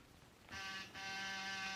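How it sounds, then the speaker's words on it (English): A harsh electric door buzzer in a 1948 radio drama sounds twice, a short burst then a longer continuous buzz, fairly close and alone. "Then I rang his buzzer"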